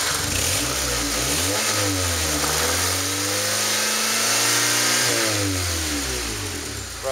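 A 1998 Honda Accord LX with a 2.3-litre engine and automatic transmission revs repeatedly through a loud exhaust, the engine note rising and falling in several close, sustained pulls.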